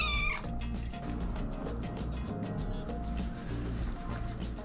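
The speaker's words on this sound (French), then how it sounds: "c'est le petit miaou de la rut" A kitten gives a high meow right at the start, then a steady low rumbling and ticking background continues without further calls.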